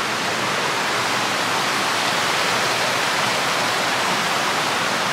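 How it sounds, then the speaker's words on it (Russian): A river rushes steadily outdoors in Andorra, a dense, continuous roar of flowing water that stays loud and even throughout with no voices over it. "Река."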